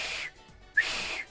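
Two breathy, airy whistle attempts separated by a short pause, the second starting with a brief thin tonal squeak before fading into rushing breath.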